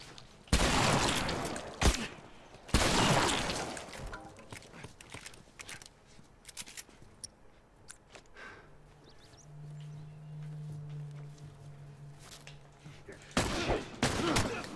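Gunfire in The Last of Us: a few loud, close shots and bursts at the start, a quiet stretch with low ambient hum, then more sharp shots near the end.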